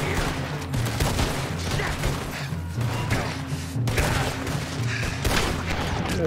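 Gun battle at the gun store in Red Dead Redemption 2: dense, overlapping gunshots and booming blasts crackle continuously for several seconds, close and loud, with rapid repeated reports.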